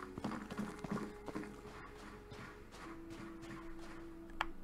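Horse hooves clip-clop in the video game Cowboy Life Simulator, a steady run of light taps over a constant low hum and game background sounds.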